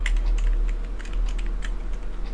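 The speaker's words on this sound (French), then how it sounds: "on va tester le clavier" A computer keyboard's keys being tested by typing, with rapid irregular clicks and taps close up over a steady low hum, no voices.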